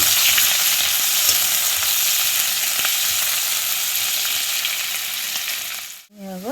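Onions frying in hot oil for a fish curry, a steady bright close-up sizzle that holds throughout and dips briefly near the end before resuming.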